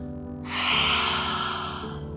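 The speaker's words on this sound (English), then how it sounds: "pretend you're fogging up a window" A slow open-mouthed exhale, like fogging up a window during a children's yoga breathing exercise, rises into one soft breathy rush lasting about a second and a half, heard close and alone.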